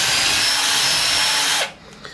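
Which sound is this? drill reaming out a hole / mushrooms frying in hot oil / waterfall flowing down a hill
drill reaming out a hole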